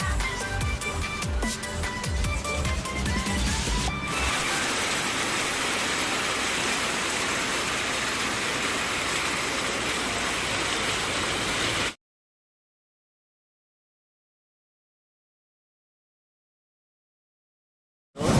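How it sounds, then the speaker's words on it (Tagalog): Heavy rain pours down at a roadside stopover in the Philippines, a dense, constant hiss that follows a short burst of mixed noise. It runs unbroken for several seconds before going abruptly silent, and no one speaks. "kasi lakas ng ulan"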